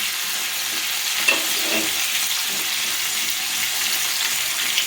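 Garlic and green chillies frying in a pan while being stirred, a continuous close sizzle with faint scraping of the stirring spoon, no voices.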